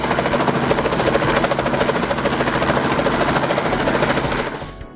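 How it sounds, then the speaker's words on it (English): A helicopter's rotor thuds steadily and loudly in a dense, rapid chop with a whining engine roar as the chopper gets off the ground, fading away at the very end. "generating enough lift to get the chopper off the ground and rising"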